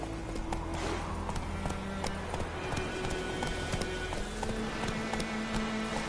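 In The Witcher 3, the horse Roach gallops with a rapid, continuous clip-clop of hooves over a steady rumbling game ambience, fairly close and unbroken throughout, with no talking.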